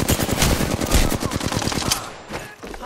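Rapid automatic gunfire in the battle royale game Apex Legends, a fast, steady burst of loud shots that stops after about two seconds, leaving a faint tail.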